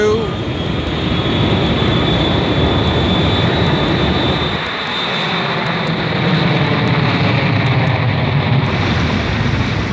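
A Boeing 757 airliner roars down the runway on takeoff, a loud continuous jet engine rush with a high whine that briefly dips midway then builds again, steady and near throughout.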